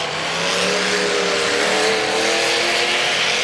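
Race cars running hard around a dirt track, one engine sounding worn out, producing a loud continuous roar of revving engines that swells slightly midway, heard close with no talk.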